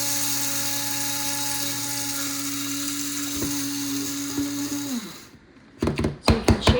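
A Mr Coffee electric coffee grinder whirs steadily on whole flax seeds, a loud, high-pitched motor drone holding for about five seconds before winding down, followed by a few sharp rattling shakes of the seeds.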